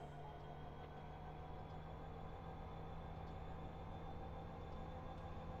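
A simulated train grinds steadily up Cajon Pass in a railroad game, a faint continuous rumble with a low engine hum and no break in the drone.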